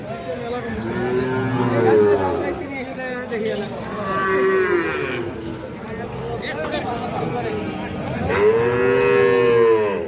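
Sahiwal bull calves at a cattle market low repeatedly, with three drawn-out moos spaced a few seconds apart, close and loud over a busy background of market chatter.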